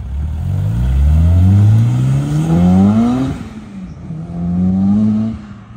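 A V8 Chevrolet Colorado with a titanium exhaust and a boost-activated valve revs loudly and up close, its deep engine note climbing in pitch, dropping off briefly, then rising again in a second shorter pull.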